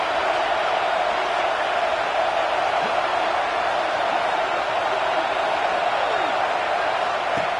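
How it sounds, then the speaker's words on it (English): Home crowd at a college football game, a steady dense roar of cheering filling the whole stretch, loud and continuous like a packed stadium, with no clear break or individual voices standing out. "this home crowd is fired up and ready to make a difference today"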